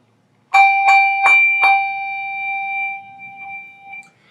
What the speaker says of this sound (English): going to be rung by what I like to call a knock. Just like knocking on a door